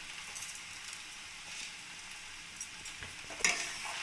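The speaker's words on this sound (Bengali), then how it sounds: "চিনিটা এবার তরকারির সঙ্গে ভালোভাবে মিক্সড করে নেব" Sugar is stirred into a cauliflower stalk curry in a pan, a soft continuous sizzle with faint scraping and a sharper knock near the end, close and fairly quiet, no talk.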